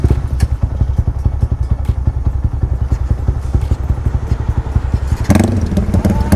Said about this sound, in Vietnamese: Còn bây giờ lên đường, nổ máy.